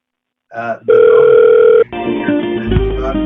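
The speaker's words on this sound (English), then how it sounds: "click the green dial button. It will automatically dial that customer." A phone placing an automatic call to a customer: a short burst of tones, then a steady dial tone, followed by a shifting sequence of dialing and line tones, loud and close.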